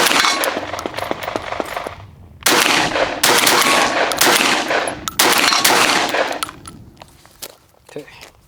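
A Benelli M4 shotgun, a USMC M1014 clone, fires a rapid string of loud, close, sharp blasts in two bursts, with a pause between them, then trails into lighter clinks and shuffling.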